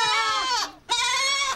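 A goat bleats twice in quick succession, loud and close: a long wavering, nasal cry, a brief break, then a second sustained bleat.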